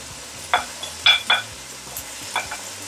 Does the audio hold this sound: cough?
no